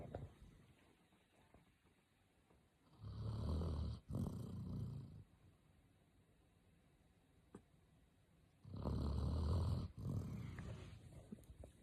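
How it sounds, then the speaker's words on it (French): A dog snores indoors in two long, loud rasping breaths separated by quiet pauses, close by with no other sounds. "J'ai mon chien qui ronfle."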